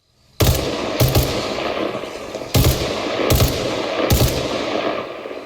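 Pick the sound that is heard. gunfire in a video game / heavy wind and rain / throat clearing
gunfire in a video game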